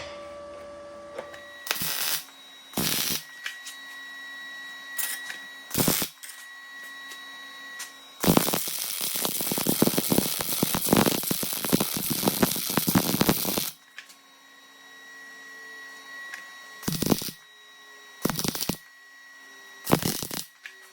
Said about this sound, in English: We're gonna weld on some 10 gauge mild steel, see what happens.